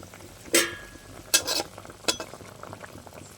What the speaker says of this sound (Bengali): আমার ঝোলটা বেশ ভালোভাবে ফুটে গেছে